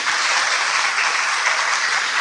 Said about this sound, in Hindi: तो अपने भाग्य के लिए तालियां तो बजाइए।